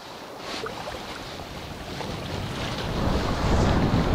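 Strong wind roars across an open lake during a storm, rising and surging in gusts with buffeting on the microphone and waves lapping underneath.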